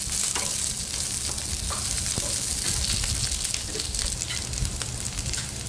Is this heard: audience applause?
no